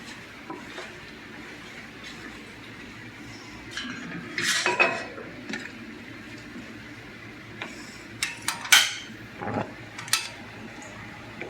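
Metal cookware clinks and clatters in a kitchen, with a few sharp knocks as a pot of water for boiling okra is set on the stove, over low background rumble.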